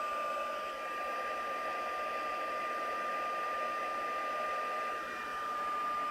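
A craft heat tool runs steadily at close range while heat-setting embossing on a fun fold card, a constant whooshing blow with a faint high whine, moderately quiet and uninterrupted.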